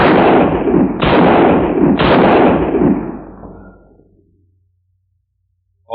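A radio-drama sound effect of three sharp gunshots fired about a second apart, each with a long decaying echo tail that fades into silence, with no voices over the shots.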